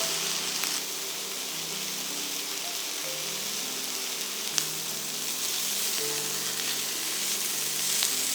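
Pork patties sizzle steadily in a frying pan as they are shifted around, with a dense, crackling fry heard up close, a few faint scrapes, and no voices.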